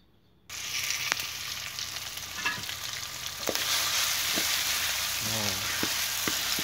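Melinjo skin stir-fry frying and being stirred in a pan, a steady sizzle that starts abruptly and carries on loud and close, broken by scraping spatula strokes and clinks against the pan.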